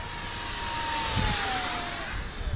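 An RC L39 model jet on a 10S battery flies past at full throttle, its fan spinning tens of thousands of RPM. A loud, high turbine whine swells, then falls in pitch as the plane passes and moves away.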